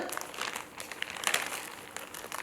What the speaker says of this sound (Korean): 바나나 껍질을 벗긴 바나나를 자, 준비된 비닐에 넣어줄 거예요